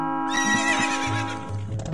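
A horse at the ranch in The Legend of Zelda: Ocarina of Time whinnies loudly and close, one long wavering neigh with a faint clip-clop of hooves running underneath.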